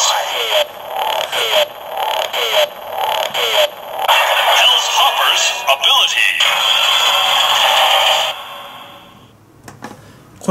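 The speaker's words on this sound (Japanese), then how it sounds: "今最初にヘルライズって言って変身待機音が鳴ってます" DX Hellrise Progrise Key toy playing its electronic voice line and a looping transformation standby tune, bright synthetic electronic sounds with someone talking over them before it stops.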